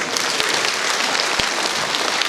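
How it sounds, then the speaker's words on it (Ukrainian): An audience claps in a dense, steady wash of applause at a concert, continuous and moderately loud across the whole stretch. "я хочу запросити на цю сцену свою сестру Катерину Фальон під ваші оплески"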